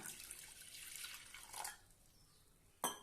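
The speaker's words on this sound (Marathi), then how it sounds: "त्यामध्ये आता पाणी घालूया" Water runs softly into a pressure cooker pot for drumstick and dal, a faint, short splashing pour that stops, followed by a single light knock.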